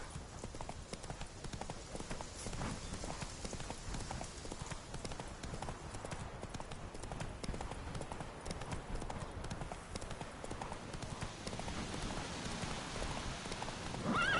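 A horse gallops in The Witcher 3 video game, with a rapid, steady clip-clop of hoofbeats running close and continuous over a soft rain-like hiss.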